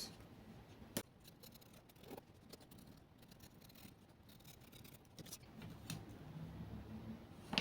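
Scissors cut out fabric pieces for a mermaid gown, producing faint, scratchy snips and rustling at close range, with a few sharp clicks of the blades.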